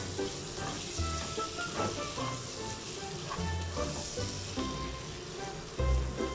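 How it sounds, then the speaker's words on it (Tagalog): Mexican rice sizzles and fries in a pan while being stirred, a steady close crackle broken by scraping stir strokes and occasional louder clatters from the pan. "Hahaluin lang natin ulit."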